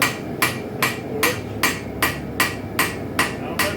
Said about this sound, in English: I'm hammering about a half inch to 3/4 of an inch of the thin edge part of this blade.